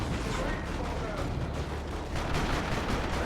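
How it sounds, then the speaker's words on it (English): Grenade barrage in Dawn of War 2, a Warhammer 40,000 battle with Imperial Guard and Chaos: dense, continuous rumbling blasts and crackling detonations roll on without pause for several seconds, loud and close. "Well-timed grenade barrage."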